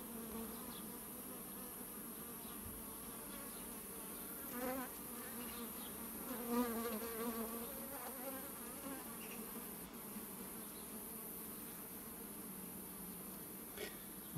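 Honeybees buzz continuously and close-up inside an opened hive full of sunflower honey, a steady dense drone with slight swells and no talking.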